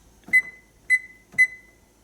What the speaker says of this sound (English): So the timer just went off, our 5 minutes is up